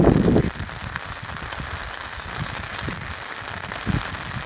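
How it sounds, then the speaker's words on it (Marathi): Rain falls steadily outdoors in a broad, even hiss, with a few louder patters and rustles near the start and toward the end. "बघा किती पाऊस पडतोय."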